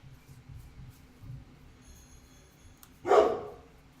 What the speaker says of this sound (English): So this is why you hear the doggies